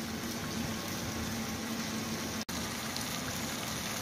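Chicken simmering in tomatoes in a pan for black pepper chicken, a steady close bubbling hiss of boiling liquid that continues without a break and with no talk.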